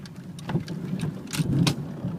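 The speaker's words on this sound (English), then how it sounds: "Go up my gravel driveway" Tires of a 1999 Chevrolet Malibu LS sedan crunch and pop over a gravel driveway, a close, steady rolling grind with scattered sharp stone clicks over a low hum.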